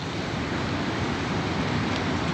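Steady broadband roar of wind blowing without a break in a burned forest, loud and close, with no voices.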